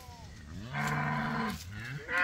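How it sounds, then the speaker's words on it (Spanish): Cattle low while being moved between pastures, a long, deep moo rising and sustained at close range, followed by a second shorter call, with no talk over it. "Ahí van las vacas, van recio, como ya tenían ganas de salirse del potrero."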